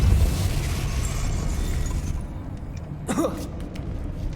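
Depulso spell cast in Hogwarts Legacy, a rushing magical burst that swells and then gives way to a sharp crackling impact near the end, with no talk.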